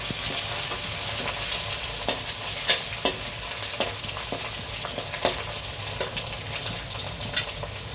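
Ginger, garlic and curry leaves sautéing in oil in a pan, a steady close sizzle with frequent sharp crackles and pops as the spices fry, no voices.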